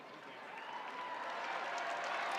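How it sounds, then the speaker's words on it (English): Steady applause from a large crowd at a college wrestling dual meet, a dense wash of clapping that swells slightly and holds without pause. "Plenty of applause."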